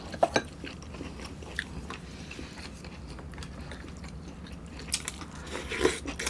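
Soft, close chewing of a pan-fried eggplant pancake during a Korean home meal, with moist bites and faint crunches over low background noise and no talk.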